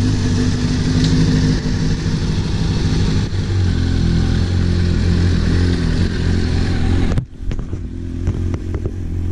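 Honda CBR 600 RR sport motorcycle engine running loud and close in a steady drone as it pulls away in gear, then dropping off abruptly near the end, with no talk.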